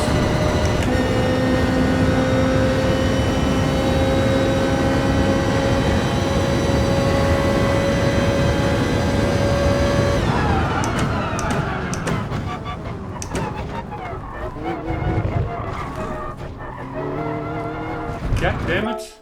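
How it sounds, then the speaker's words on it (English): Car engine from Gran Turismo Sport during a race, a loud sustained mechanical drone with steady high revs, then shifting and fluctuating pitch with brief tire noise as the car brakes and accelerates, and someone talking over it. "good sound effects in this car. It's pretty mechanical."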